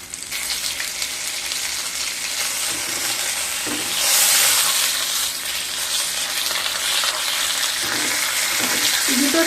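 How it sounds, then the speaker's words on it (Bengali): Pomfret fish shallow-frying slowly over medium-low heat in a home kitchen pan, a continuous close sizzle with scraping and stirring clatter, briefly louder midway, and faint voice traces. "এইভাবে আস্তে আস্তে করে মাছটাকে ভেজে নিতে হবে।"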